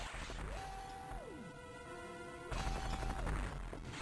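Gunfire and explosions from the SAX attacking Metroids in Metroid Fusion crackle as dense, noisy bursts, broken up by rising and falling electronic synth tones in the middle, then a fresh burst of blasts.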